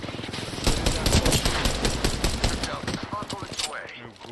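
Sustained rapid-fire smart bullets hitting a foe in the video game Apex Legends. The dense, machine-gun-like rattle runs close and loud for several seconds, with a voice talking over the shooting.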